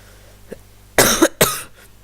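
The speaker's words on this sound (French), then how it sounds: "excusez-moi si je tousse un peu" Two harsh coughs close together, loud and near, after a brief faint sound and otherwise quiet.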